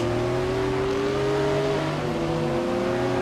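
Racing car engines drone loudly and continuously in the racing game Assetto Corsa, several historic sports car motors, including a Corvette, whining together with their pitch slowly shifting as they rev.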